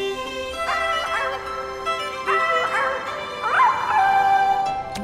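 A cartoon mer-pup, half fish and half puppy, from the PAW Patrol animated series gives a few high, bright yips and whimpering barks in short bursts over a soft, steady background tone.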